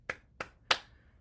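Three sharp hand claps on the chest during a bouncing exercise, spaced apart and close, with the third strongest and a short ring after it.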